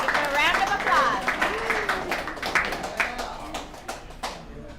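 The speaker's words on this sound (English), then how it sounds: "Give him a round of applause." A small recovery-meeting audience applauds a speaker, with brisk, moderately close clapping that thins out over a few seconds while voices talk over it.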